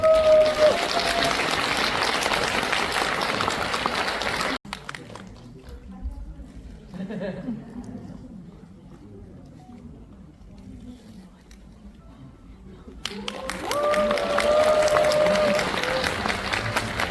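A film festival audience in Suncheon applauds after a tribute performance. Loud crowd clapping opens the sound, cuts to a quieter murmuring stretch, then the dense applause returns strongly at the end.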